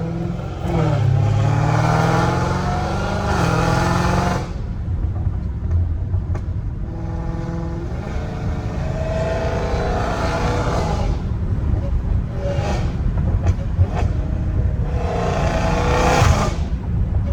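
A straight-piped 850 hp Hellcat Redeye engine revs and accelerates loudly and close, with a deep rising roar broken by several gear shifts, then climbs again.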